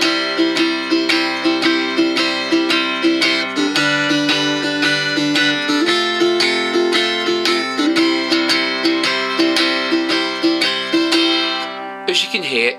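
Tenor guitar strummed through a 12-bar blues progression in C, steady rhythmic chords with a swinging beat, played alone and close for most of the passage before it cuts off near the end.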